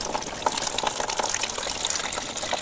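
Filtered water from a tank filter, used to irrigate a guava crop, pours out in a steady, continuous close-up gush with no break.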